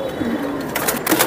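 Giribaz racing pigeons coo in low, soft murmurs, with a few brief rustles and clicks mixed in close by.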